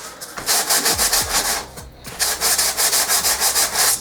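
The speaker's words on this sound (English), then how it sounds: "Use one of these scouring pads" A scouring pad scrubs back and forth across a surface in fast, regular strokes, a loud, close, gritty rubbing rhythm that pauses briefly midway, with no voices.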